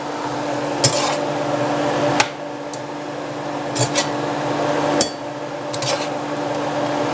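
Jumbo shrimp cook in a pan under a constant close sizzle, punctuated by several sharp metallic clacks and scrapes of a utensil stirring against the pan at irregular intervals.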